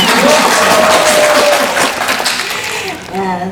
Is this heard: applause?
yes